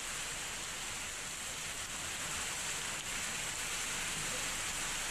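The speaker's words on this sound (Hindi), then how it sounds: "ऋषिकेश में भी अचानक मौसम ने करवट ली और तेज हवाओं के साथ बारिश और ओलावृष्टि हुई" Steady broadband rain in Rishikesh, driven by strong winds with hail, a dense unbroken hiss that stays loud and even throughout with no distinct thunder or voices.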